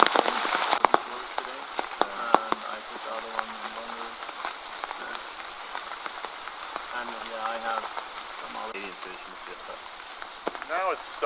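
Heavy rain falls in a Borneo rainforest, a steady, fairly loud wash of drops on leaves and surfaces, with a voice speaking intermittently over it.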